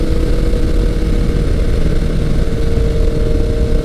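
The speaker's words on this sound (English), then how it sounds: "The bike is running great." A 1983 Kawasaki GPZ 1100 motorcycle engine runs at a steady idle, a loud, continuous low rumble close to the listener with no talking.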